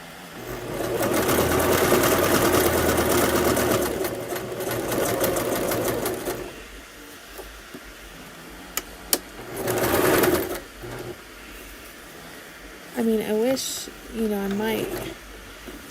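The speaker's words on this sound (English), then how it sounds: "people like to hear the actual sewing machine" A sewing machine runs in close bursts of rapid mechanical whirring and stitching, stopping and starting, with quieter gaps between runs and a few short voiced sounds near the end.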